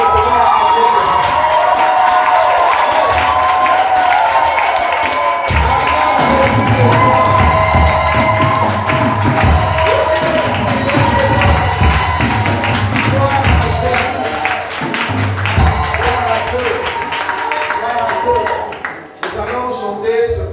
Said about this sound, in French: Nous allons maintenant acclamer Jésus.